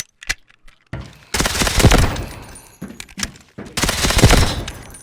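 A CAR-15 automatic rifle fires in the video game Delta Force, with a few single clicks and shots followed by two loud sustained bursts of rapid automatic fire.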